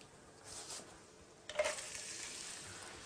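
Vegetables cook in olive oil and butter in a pot, giving a soft, gentle sizzle with a brief louder stirring rush midway, and nobody talks.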